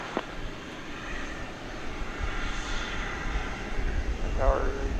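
An Envoy airliner on approach to runway 18 right at DFW, its engines a steady low roar that grows slowly louder, with radio voices talking over it.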